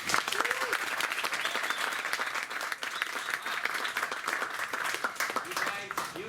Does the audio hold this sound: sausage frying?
no